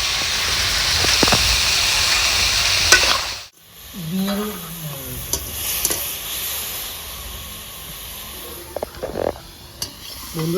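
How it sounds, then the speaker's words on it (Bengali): Cauliflower florets frying in hot oil in a pan for a royal shahi phulkopi dish, a steady close sizzle with stirring and utensil scrapes, the frying growing louder after a brief pause. "এবার ফুলকপি এখানে ভেজে নেবো আমি"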